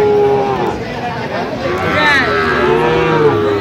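Cattle moo at a busy cattle market, with several loud, drawn-out lowing calls overlapping nearby while people talk in the background.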